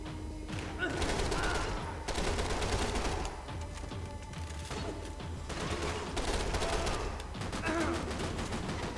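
Gunfire in the shooter game Max Payne 3: dense, near-continuous automatic bursts with thuds, loud and busy across the whole stretch, with a voice speaking over it.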